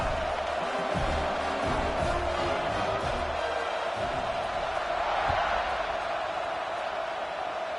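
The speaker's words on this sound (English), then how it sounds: "this crowd is buzzing after that last score" A stadium crowd in the College Football 26 video game buzzes after a score, a steady, loud roar of massed voices with scattered cheers, unbroken and unchanging throughout.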